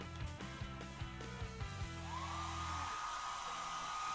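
A hair dryer starts up after some low thumping handling noises, then settles into a steady, loud whirring blow with a rising motor whine.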